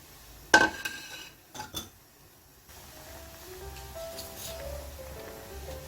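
Potato and zucchini go into a pot of broth for sujebi soup, starting with a couple of sharp metallic clanks and clinks from a utensil against the pot, then a soft, steady simmering bubble.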